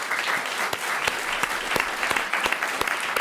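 Audience applause after a panel of speakers and moderators at a climate action event on food waste: steady, dense clapping from a sizable crowd with sharp individual claps standing out, continuous throughout.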